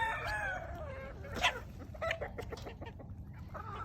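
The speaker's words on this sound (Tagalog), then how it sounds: "Dami mong inahin, Andy." Several hens cluck and cackle nearby on a farm in short, overlapping bursts, with a steady low background rumble underneath.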